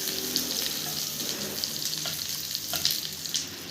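Tandoori chicken sizzles and fries steadily in a pan, a continuous close crackle and hiss with scattered pops and occasional stirring clinks.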